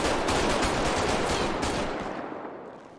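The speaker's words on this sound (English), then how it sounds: "Shots fired. Suspect down." A dense volley of gunshots, loud and crackling in rapid succession, then decaying into a fading echo over the last second with no talking.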